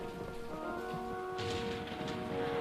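A rain storm pours steadily, a faint, even hiss of falling rain with no breaks, heard alone without any voices.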